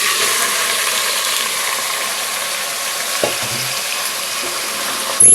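Marinated chicken with green chilies and curry leaves fries in a pan with a loud, continuous sizzle, broken by a couple of stirring scrapes and a sharp clatter at the very end.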